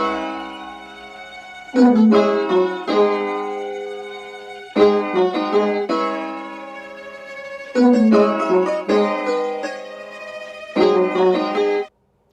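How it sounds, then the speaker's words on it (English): A looping melodic pattern of layered, slightly muffled tonal chords repeats in phrases with gaps between, steady and moderately loud, with no voices. "our loop sounds kind of like this"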